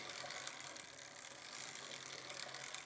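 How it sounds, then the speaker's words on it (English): A circular sock knitting machine fitted with a 96-slot cylinder is cranked at a steady pace, giving a continuous soft mechanical whir and ratcheting clatter heard close up, faint overall, with no voices. "It's cranking pretty easily, I would say."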